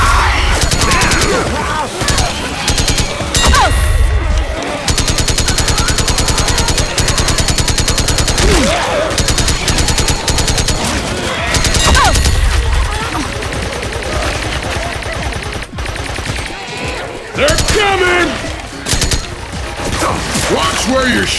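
Loud, rapid gunfire bursts and weapon mechanism clatter fill a chaotic Left 4 Dead 2 zombie fight in a city setting, with repeated automatic volleys, crashes and game characters shouting throughout.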